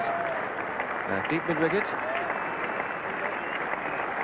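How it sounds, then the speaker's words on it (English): Cricket crowd applauding a fielder's save in the deep, a steady broad clapping wash throughout with a commentator's voice speaking briefly over it. "They take 3 runs, but the applause very much for Edmonds."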